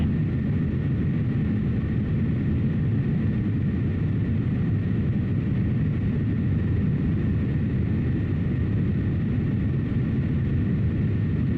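Engine of a B-2 Spirit bomber in a flight simulator game, a steady, loud, broadband roar with a deep rumble that holds constant throughout without talk.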